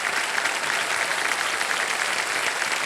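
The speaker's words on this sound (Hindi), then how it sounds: "ये तालियां बजती रहें इनके लिए" Dense, even applause from a large studio audience on the Indian quiz show Kaun Banega Crorepati, cheering contestant Meenakshi. The steady wash of clapping fills the room without pause for about three seconds.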